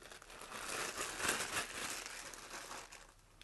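Plastic wrapping around a Tokina camera lens crinkles and rustles steadily for a few seconds, close and fairly quiet, with no talking.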